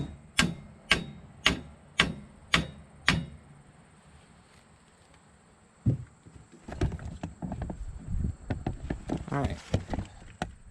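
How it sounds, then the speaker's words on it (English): A sledgehammer pounds a Kubota tractor three-point spacer into place with six sharp, evenly spaced metal blows, followed by a single heavier thud and then scattered clanks and shuffling handling noises up close. "let's get our sledge and pound that back over"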